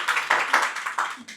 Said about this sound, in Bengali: ওর জন্য একটা হাততালি হবে।